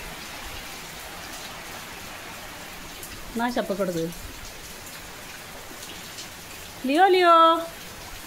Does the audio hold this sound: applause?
no